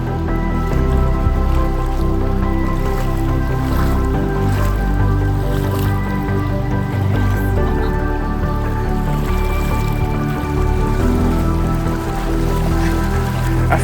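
Wading through cold river water in the Narrows at Zion National Park, continuous splashing and sloshing of water around the legs, loud and close, with rushing current throughout and no talk.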